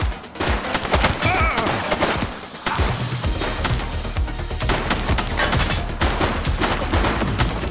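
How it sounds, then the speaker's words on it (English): Heavy gunfire during a police shootout in the game The Precinct, loud rapid bursts and crackling shots with sharp impacts, a brief lull, then another long sustained volley. "He's shooting!"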